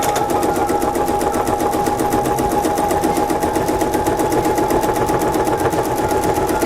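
Sewing machine stitching a quilt seam on flying geese blocks, a fast steady mechanical whir with even rhythmic needle clatter, close and continuous with no talking.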